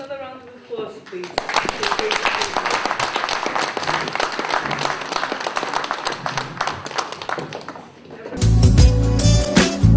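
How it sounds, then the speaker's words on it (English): Audience applause at a business investment magazine launch, dense sustained clapping from a room of people that fades near the end, giving way to a loud close bump and a voice. "We have another round of applause"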